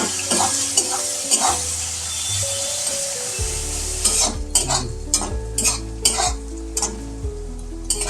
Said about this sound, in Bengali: এবার দিয়ে দিচ্ছি কুচিয়ে রাখা পেঁয়াজ।